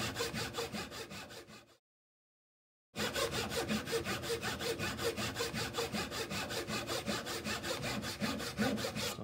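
A hand saw cuts wood for a half lap joint with quick, even back-and-forth strokes. The close, rhythmic rasp stops for about a second, then resumes and continues steadily.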